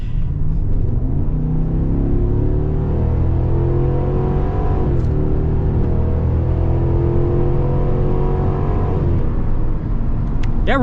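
A 2021 Cadillac Escalade Platinum in sport mode pulls hard under full acceleration, its engine a loud, steady rumbling drone that climbs in pitch through gear changes, rising, dropping and rising again, with road and wind noise underneath.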